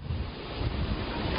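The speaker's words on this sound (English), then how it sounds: "Second, the wind has picked up." Strong storm wind gusts on the Florida coast at Sebastian during a hurricane with sideways rain, a steady loud broadband roar buffeting the microphone with surf-like rumble throughout, no voices.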